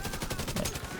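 A brief burst of rapid video-game gunfire, shots pulsing in a quick steady rhythm throughout a single second, fairly loud and close.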